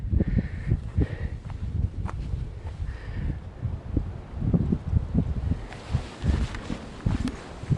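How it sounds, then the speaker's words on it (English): Wind gusts up a hill through a mountain saddle on an Appalachian Trail section, producing uneven rumbling buffets of wind noise against the microphone with soft rustling, fluctuating in bursts throughout. "You get a breeze a lot of times in these saddles because the wind's coming up that hill"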